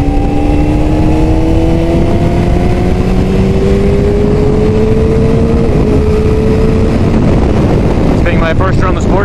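A 2005 Honda CBR600RR sport motorcycle under way, its engine droning and rising in pitch through gears beneath loud buffeting wind noise, steady and close throughout.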